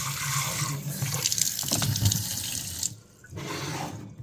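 Tap water runs into a tea-stained mug in a kitchen sink: a steady, close splashing rush that cuts out briefly near the end, then resumes.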